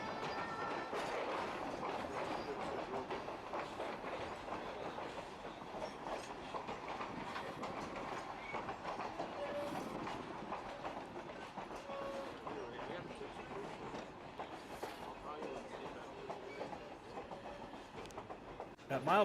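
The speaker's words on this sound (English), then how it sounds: "the train crosses over the Animas River for the first of 5 times on the southbound run back to Durango" Durango & Silverton narrow gauge steam train running southbound toward Durango beside the Animas River, a steady rolling clatter of wheels and cars at moderate distance with faint background voices throughout.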